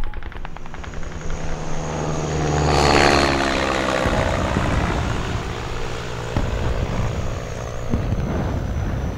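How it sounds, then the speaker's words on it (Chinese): Aircraft engine drone from a military plane passing overhead in a wartime drama setting, swelling loud around the middle, then fading into a steady low rumble with a thud near the end. "鬼子的飞机是往西边去了。"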